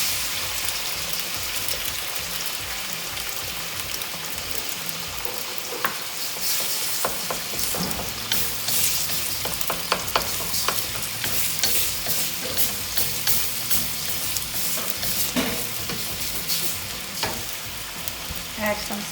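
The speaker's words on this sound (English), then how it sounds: "And get our eggs cooking" Eggs fry in oil in a pan for pad Thai with tofu and shrimp, a loud, steady sizzle with scattered crackles and stirring scrapes throughout, close up and without talk.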